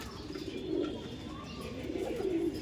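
A racing pigeon held in hand cooing nearby, two low throaty rolling coos separated by a pause over faint background rustle.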